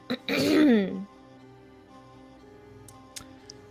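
A single short throat-clearing cough up close, followed by quiet with a couple of faint ticks.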